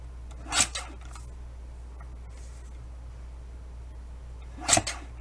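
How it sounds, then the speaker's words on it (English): A paper trimmer slices paper for a journal in two short, sharp rasping strokes a few seconds apart, close and quiet over a low background hum. "I can use my trimmer to trim this the rest of the way up"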